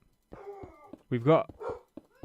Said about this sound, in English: a dog barking in the background.